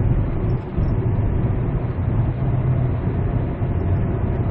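A car coasts at about 100 km/h with the accelerator released, the engine near 1000 to 1500 rpm, filling the cabin with a steady, loud low drone of engine and road noise that does not change.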